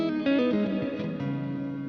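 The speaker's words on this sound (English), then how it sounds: "I have it set up right now for a fairly, what you might think of as traditional reverb setting." A few electric guitar notes through an EarthQuaker Devices Afterneath reverb pedal ring out with a lush, spacious reverb tail, ending in a sustained chord that lingers.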